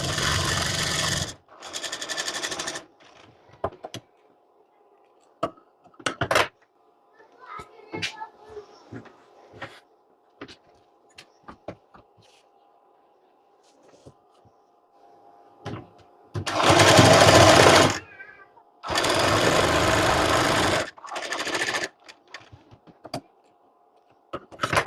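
An electric sewing machine stitches the side seam of a blouse in several short whirring bursts separated by pauses, with someone talking quietly between runs and small clicks from handling the fabric.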